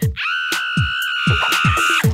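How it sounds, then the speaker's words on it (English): A group of voices scream together in a loud, sustained chorus that holds for about two seconds over a sharp, rising start. "Somebody, anybody, everybody scream!"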